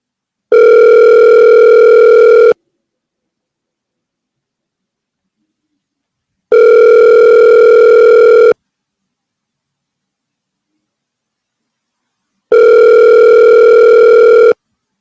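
A telephone ringback tone while calling someone back, three loud, evenly spaced two-second tones separated by long silent gaps, heard alone.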